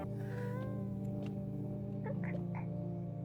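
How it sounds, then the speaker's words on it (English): A cat cries with wavering, mournful meows in the horror video game No I'm Not Human, moderately loud over a steady low droning background with a few faint ticks. "She's crying. Oh, kitty cat."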